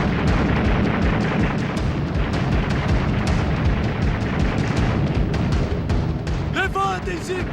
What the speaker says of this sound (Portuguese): Sentíamos e ouvíamos os tiros.